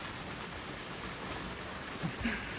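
Heavy rain pours steadily on a leaky greenhouse, a dense, even hiss of falling water with a few slightly louder drips near the end.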